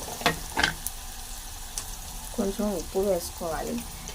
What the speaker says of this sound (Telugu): వేసుకున్నాక కొంచెం ఉల్లిపాయ వేసుకున్న ఉప్పు కొంచెం కలుపుకుంటూ ఉండాలి